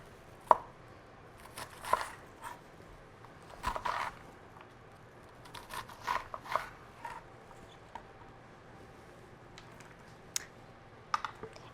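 A knife chops through an onion on a cutting board in scattered, crisp taps, some single and some in quick clusters, close and fairly quiet against a hushed room.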